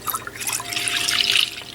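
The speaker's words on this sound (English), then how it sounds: "you can pour your milk into the bowl" Whole milk pours into an Instant Pot's inner bowl, a steady splashing liquid stream that builds and grows slightly louder over under two seconds, with no talking.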